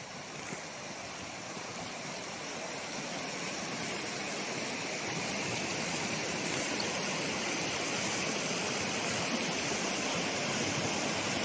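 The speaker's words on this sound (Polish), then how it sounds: "Biała Przemsza. Woda górska." Fast mountain river, the Biała Przemsza, rushing with a strong current through trout and grayling water in winter, a steady dense roar of flowing water close by that holds constant throughout with no voices.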